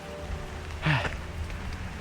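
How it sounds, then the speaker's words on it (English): Steady rain patters across surfaces outdoors in a constant close hiss, with a brief louder knock or voice-like sound near the middle. "All right, it's raining."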